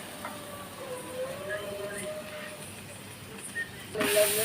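Egg cracked onto a street-stall griddle for chicken kothu parotta hisses steadily up close, with faint voices in the background and a louder burst of sizzling toward the end.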